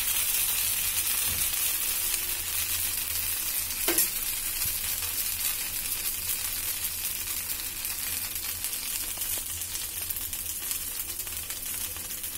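Ghavne, a thin rice crepe, roasting in a pan with a steady, soft sizzle and fine crackle throughout, close and even, with one brief clink partway through and no talking.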